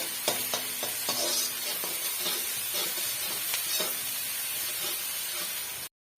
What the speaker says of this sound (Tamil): பாருங்க நம்ம சேர்த்திருக்க இஞ்சி பூண்டு பேஸ்ட் வந்து நல்லா வந்து வதங்கி வந்துடுச்சு